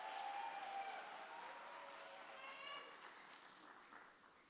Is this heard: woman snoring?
no